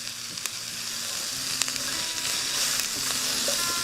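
Onions sizzle and caramelize in a very hot pan over a live cooking fire, making a steady close hiss with scattered faint pops and ticks. No one speaks.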